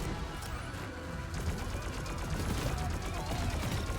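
An explosion goes off during chaotic combat in the video game Deep Rock Galactic, a dense continuous crash and rumble with a rapid crackle of gunfire layered through it, loud and sustained.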